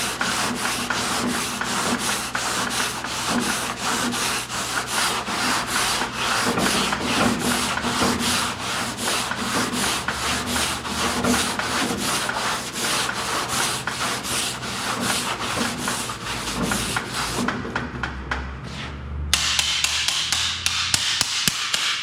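Hand sanding a car body panel with sandpaper, steady rhythmic back-and-forth rasping strokes, close and continuous, ending in a few sharper scrapes.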